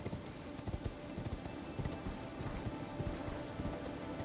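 Horse hooves clip-clop steadily at a riding pace in the video game Elden Ring, a continuous rhythmic patter of footfalls under a busy game soundscape.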